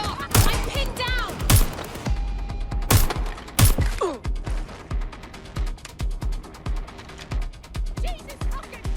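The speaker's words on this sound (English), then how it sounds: "Taking fire!" Repeated gunfire in Watch Dogs: Legion, sharp bursts and single shots cracking close by at irregular intervals across the clip, mixed with game voices shouting over the firefight.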